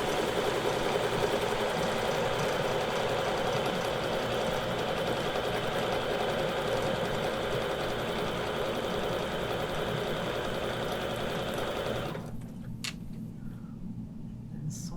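A sewing machine quilts along a Westalee ruler in a fast, steady, close mechanical hum, then stops abruptly near the end, leaving a few faint clicks.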